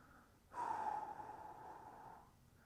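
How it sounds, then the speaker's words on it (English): One long, deep breath is drawn in and let out slowly during hip mobility stretching, close and fairly soft, with quiet before and after. "just take some deep breaths"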